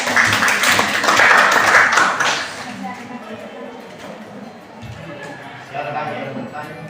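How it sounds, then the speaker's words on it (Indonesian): Classroom applause for a student group after a presentation, loud brisk clapping in the first couple of seconds that fades to scattered claps and quiet voices. "tepuk tangan untuk kelompok 2 ini."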